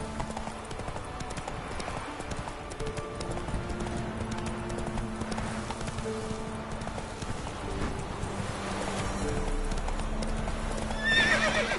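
In The Witcher 3, the horse Roach gallops with rapid, rhythmic hoofbeats close up, then lets out a neigh near the end, while game music and ambience play underneath.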